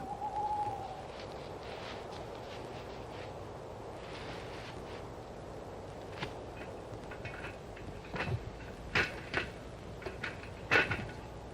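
Owls hoot softly in a forest, faint and distant against a low steady background, with sharper bird calls and rustles growing louder near the end.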